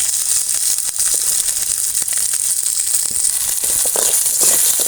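Garlic, small onions and ginger sauté in a pan for a pirandai chutney, giving a steady, close, bright hiss and sizzle with faint crackles that runs without a break.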